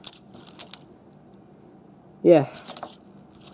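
Keys for a 1997 Buick Century, a set of several ignition and door keys on a ring with a fob, jangle in a short metallic burst close by, with a few lighter clinks after it and a brief spoken word.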